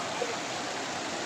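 Stream water rushes steadily in a village setting, a continuous broadband flow with no pauses over a short stretch.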